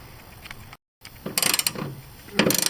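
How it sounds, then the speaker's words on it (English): A ratchet wrench loosens a ground bolt on a 2004 Ford Explorer, quick close bursts of rapid clicking pawl ratcheting in short runs, with a brief silent gap. "Taking out the bolt for the ground."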